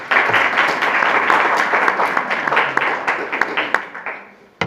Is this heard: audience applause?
yes